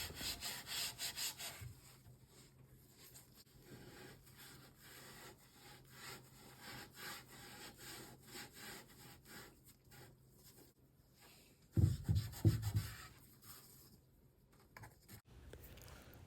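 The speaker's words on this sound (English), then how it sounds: "I then sanded each box up to 150 grit in preparation for primer and final paint." Sandpaper up to 150 grit works over painted wooden boxes in a run of quick, rhythmic rasping strokes, soft and close, with a louder scrubbing burst near the end.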